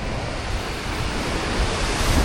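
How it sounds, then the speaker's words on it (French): Ocean surf rolling onto the shore at Busan, a steady, close wash of breaking waves mixed with wind buffeting the microphone, with no voices. "le bruit des vagues"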